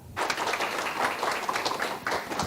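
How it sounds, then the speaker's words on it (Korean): Studio audience clapping as three project team members walk in, a brisk, fairly even burst of applause that carries on for the whole stretch at moderate loudness, no speech over it. "세 분 들어오시면 큰 박수 부탁드릴게요."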